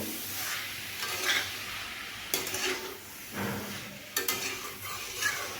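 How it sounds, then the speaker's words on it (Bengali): Papaya pieces being stirred and fried with spices in a pan, giving bursts of scraping and stirring over a soft, steady sizzle, with no voices. "মশলার সঙ্গে এখন আমি এগুলোকে বেশ ভালোভাবে এইভাবে মিশিয়ে আমি এখন আরও একটুক্ষণ এইভাবে ভাজবো বা কষিয়ে নেব"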